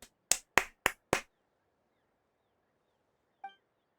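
Five sharp hand claps in the Genshin Impact video game, sounding in quick succession, close and crisp against near silence, followed after a pause by a short tonal chime.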